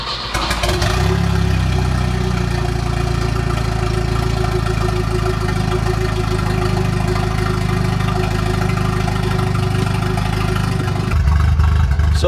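A drift car's engine idles roughly while cold-start warm-up enrichment is active, a loud, steady, uneven low rumble running close up without pause, with no talking.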